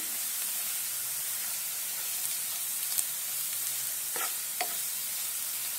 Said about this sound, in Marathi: हळद पावडर धने पावडर जिरे पावडर चांगलं मिक्स करून घेऊया